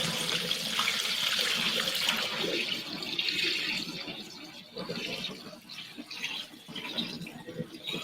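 Sea moss liquid being poured out, a steady broadband watery splash running loud and continuous for several seconds, easing slightly in the second half.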